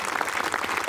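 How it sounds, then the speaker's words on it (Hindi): A short burst of dense audience applause at a Hindi comedy poetry show, many hands clapping loudly and steadily throughout. "जोरदार ताली बजाओ, ताली बजाओ आप"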